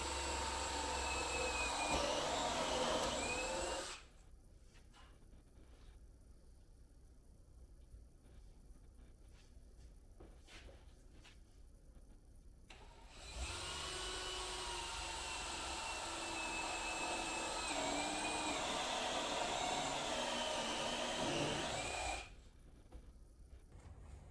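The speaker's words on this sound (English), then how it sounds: "I'm using a 1-inch Forstner bit for the front, and I'll be using a 2-inch Forstner bit for the side." Drill press or drill boring holes with 1-inch and 2-inch Forstner bits for a popcorn bag dispenser, a steady loud whine in two long bursts separated by a quieter pause.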